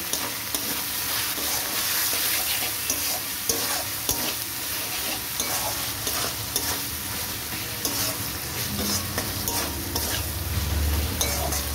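Onions with salt and homemade green chili flakes are stirred in a frying pan for a fish and vegetable dish, a steady close sizzle with repeated scraping strokes of the spoon running throughout, no talking.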